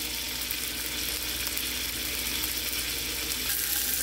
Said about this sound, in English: you can see that that's sizzling and everything